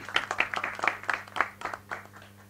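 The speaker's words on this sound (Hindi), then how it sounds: "जोरदार तालियां इनके लिए" Scattered audience clapping for an actor called on stage at a Hindi film trailer launch, uneven bursts of individual claps over a low steady hum, fairly close and moderate in level.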